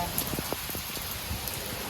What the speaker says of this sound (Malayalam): ആഞ്ഞ് വീശലും ആഞ്ഞ് പെയ്യലുമാണ്